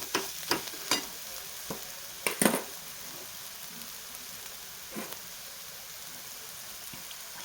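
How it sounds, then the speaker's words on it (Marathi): Pressure-cooked chickpeas are added to sizzling masala and stirred, bringing a soft bubbling sizzle with several sharp spoon clanks and scrapes against the pan, loudest early and quieter later. "आता टाकायचं आपण कुकरला लावलेला हरभरा ह्याच्यामध्ये"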